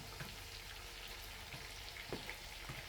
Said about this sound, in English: So we are frying the onions now, the sliced onions and the fresh tomato